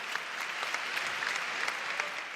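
A conference audience at Web Summit 2016 claps steadily for a couple of seconds, dense and even applause with no voices over it.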